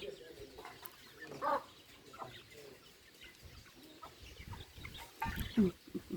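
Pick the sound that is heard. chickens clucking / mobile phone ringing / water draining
chickens clucking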